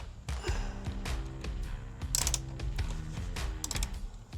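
Ratchet loosening a bolt on a motorcycle skidplate, with repeated close clicking and metallic knocks in uneven bursts, plus a few clanks of tools against metal.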